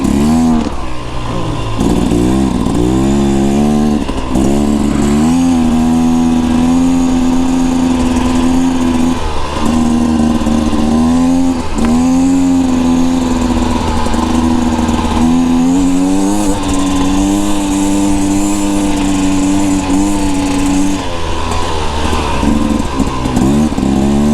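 A 2024 Beta Xtrainer dirt bike rides through sand on a mountain trail, its loud close engine droning continuously with rising and falling revs as the rider works the throttle.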